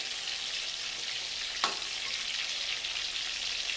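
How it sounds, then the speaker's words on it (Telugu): Stuffed brinjals fry in oil in a pan, Andhra style, giving a steady crackling sizzle throughout with one brief scrape midway. "ఇలా కొంచెం సేపు ఒక 5 నిమిషాలు వేయించుకోవాలి."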